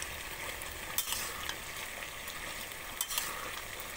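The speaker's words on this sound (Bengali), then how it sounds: "একদম দিয়ে নেড়ে নেব" Fried chilli chicken gets stirred into a thickened sauce in a pan, giving a soft, steady sizzle with a few sharper scrapes and clinks of the spoon, fairly quiet and close, with no talk.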